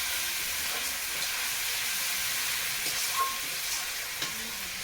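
Onion and garlic fry in a pan with a continuous, fairly quiet sizzle and light crackle and a few soft stirring knocks, heard close with no talk.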